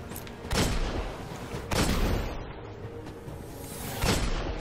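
Pistol fire in the sci-fi shooter game Destiny, three loud broadband shots spaced about 1.5 seconds apart, each with a short booming tail over a dense background of game noise.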